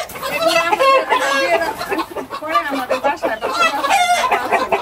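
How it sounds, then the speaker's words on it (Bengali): A brown cock kept with laying hens crows loudly and close by on a poultry farm, with repeated drawn-out calls over a backdrop of clucking hens and a voice talking. "এটা হইছে গা লেয়ারের মুরুগ, হইছে ব্রাউন কক"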